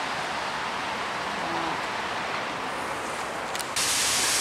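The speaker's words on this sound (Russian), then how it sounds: "У нас дождь." Winter rain falling outdoors, a continuous soft hiss of drops that holds steady, then briefly shifts and grows slightly brighter near the end.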